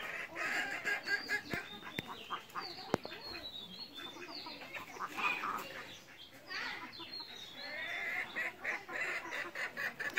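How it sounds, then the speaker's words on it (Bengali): Chickens cluck softly while feeding at a rural family home, with ducks nearby, a loose patter of calls and scratching that rises and falls, punctuated by a couple of sharp knocks. "মুরগি খাবার খাচ্ছে।"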